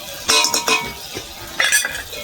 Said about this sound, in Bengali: আগেও কষিয়েছি, এখন একটু কষিয়ে নেব।